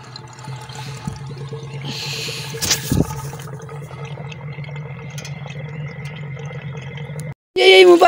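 Water runs steadily from a household pipe after a pump motor starts, a continuous rushing and splashing flow with a brief louder burst near the end.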